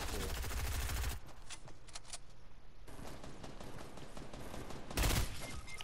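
Rapid burst rifle fire in Fortnite, a dense rattling volley at the start, a quieter stretch of scattered distant shots, then another loud short burst near the end.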